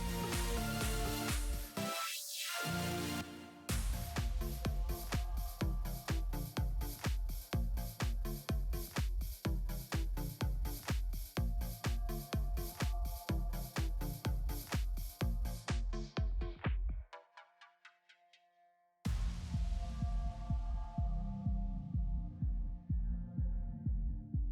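Sewing machine stitching a folded double hem along a dress neckline, a steady rapid mechanical throb running alone and close, briefly pausing and dipping near the end before resuming.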